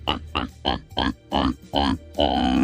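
A man imitates a pig with his voice, giving seven loud, throaty grunts in a steady rhythm, the last one drawn out longer.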